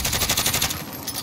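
Rapid machine gun fire in Call of Duty Warzone, a dense, loud burst of repeated shots lasting about a second with no talk over it.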